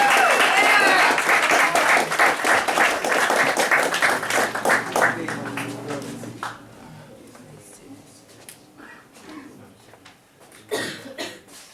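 An audience at a spoken word poetry night in London claps for the last reader, dense applause that thins into scattered claps and a cough, then a voice speaks as a brief burst of claps returns.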